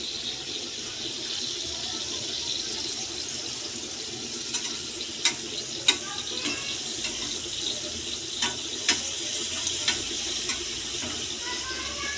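Vegetables sizzle in hot oil, a steady hiss with faint stirring clicks and a few sharper utensil taps near the middle, continuous and close with no talk.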